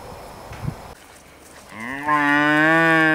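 A white cow moos loudly and close by before milking on a farm, a long rising low call after some faint rustling.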